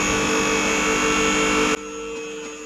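Electric vehicle lift motor whirring steadily as it raises a BMW E53 X5 in a workshop, a loud continuous hum with tonal whine that cuts off abruptly near the end, leaving quieter background.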